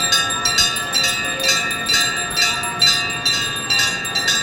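A temple bell rings repeatedly in an uneven rhythm during aarti at a Hindu temple, bright metallic clangs with long shimmering overtones, loud and close.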